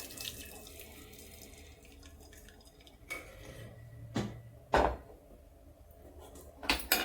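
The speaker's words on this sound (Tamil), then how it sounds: "பாருங்கள், பருப்பில் இருக்கிற தண்ணியை வடிச்சிடுவோம்." Water running and splashing into a sink as water is drained off cooked lentils, with a few sharp clinks of metal pots against the basin.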